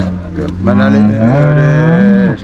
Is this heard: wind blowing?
no